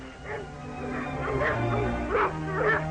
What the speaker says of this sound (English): Well, here are the dogs.